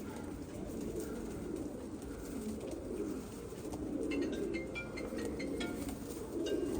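Pigeons coo in a steady, continuous murmur of low soft calls, a flock heard close and alone with a few higher chirps scattered over the top.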